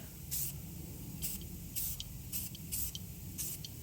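Aerosol spray paint hissing in short bursts as a light coat goes onto a GM steering column part, six brief close sprays separated by pauses over a low background rumble.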